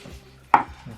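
A knife crunching down through crispy battered fried chicken, one short sharp crack standing alone against quiet kitchen background.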